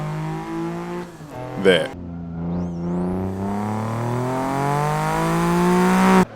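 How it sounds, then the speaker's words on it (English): A Toyota Celica GT4's raspy four-cylinder turbo engine revs and climbs through gears on a racetrack in Assetto Corsa, loud and continuous, with a voice briefly heard near the start. "the sound of this Celica just really sounds great. It has that nice little 4-cylinder rasp to it"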